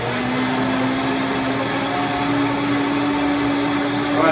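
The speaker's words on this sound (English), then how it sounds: "an extremely loud blender playing right next to me" A very loud blender runs steadily right next to the microphone, a constant dense roar with a droning motor tone and no pauses.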